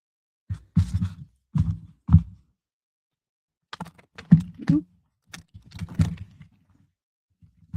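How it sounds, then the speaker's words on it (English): Tarot cards are shuffled in short bursts of riffling and tapping, several quick flurries separated by pauses, close and fairly quiet. "That was an ugly shuffle, huh?"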